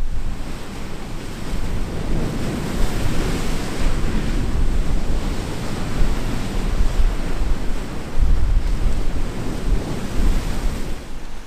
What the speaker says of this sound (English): I'm just watching these big waves and finding out how high they come.